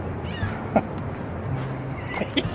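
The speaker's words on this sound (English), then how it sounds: "Got seagulls screaming at me." Seagulls cry out a couple of times near a waterfall in upstate New York, brief squawking calls rising over a steady outdoor background murmur.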